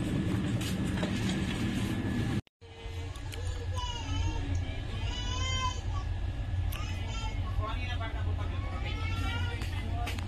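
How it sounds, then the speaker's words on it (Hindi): Satyagrah Express rolling out of Raxaul station, a steady close rumble of the moving train heard from inside a sleeper coach, with a brief dropout early on and passenger chatter and voices over the running noise. "अभी सत्याग्रह एक्सप्रेस 8:30 बजे ठीक 8:30 बजे रक्सौल स्टेशन से निकल चुकी है"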